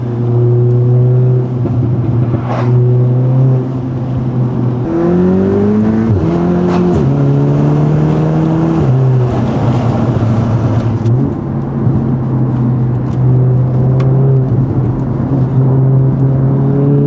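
A 400bhp Audi S3 pulls hard through long gears, its engine note rising and shifting in steady stages, loud and close from inside the cabin with no talking.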